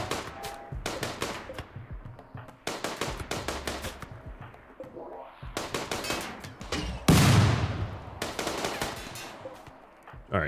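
Video game gunfire in RimWorld rips through a structure in long rapid automatic bursts separated by short pauses, loud and close, with a heavier impact blast partway through.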